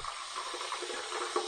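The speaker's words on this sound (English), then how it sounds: "We're gonna put some hot water in the shave bowl here." Hot water runs into a shave bowl, giving a steady, moderately soft trickling and splashing wash with small bubbling accents and no talk.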